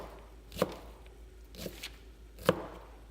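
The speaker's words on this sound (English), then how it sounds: "Now as I cut it, it's nicely diced." A knife dices an onion on a cutting board, giving three quiet, distinct chops spaced about a second apart against a near-silent background.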